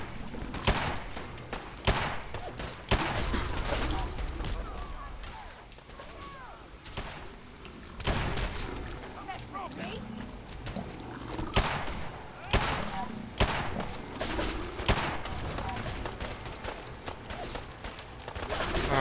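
Gunfire in the video game Fallout 4: Far Harbor, with repeated loud shots in bursts and volleys spread through a noisy firefight, mixed with shouting voices and background game sounds.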